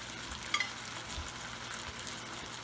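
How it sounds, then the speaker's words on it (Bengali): Yogurt is stirred into chicken masala sizzling in a pan, giving a soft, steady frying crackle with light scrapes and a couple of faint clinks, fairly quiet and without talk. "দইটা এটার সাথে ভালোভাবে মিক্স করে দেবো।"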